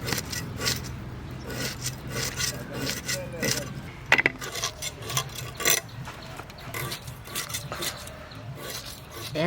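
A slippery fish is rubbed with ash by hand in a Bengali village kitchen, giving soft, irregular rasping scrapes at close range with some faint background sounds.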